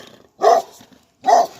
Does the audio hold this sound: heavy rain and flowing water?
no